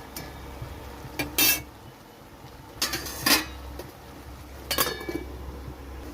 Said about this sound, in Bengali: এখন আমি একটু চাপা দিয়ে রাখবো।